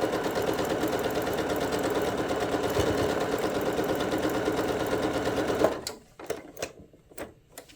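A sewing machine stitches a pixel quilt in a steady, rapid mechanical run for most of the stretch, then stops abruptly, leaving a few short clicks and handling knocks near the end.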